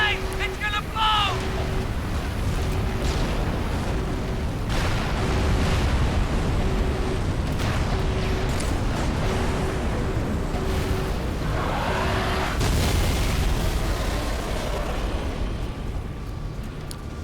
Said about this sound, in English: big, cool explosion.